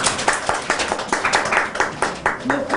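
An audience at a church gathering applauds in a fairly close, brisk run of clapping that continues steadily throughout, with voices mixed in.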